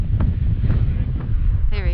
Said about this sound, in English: It's getting windy, y'all.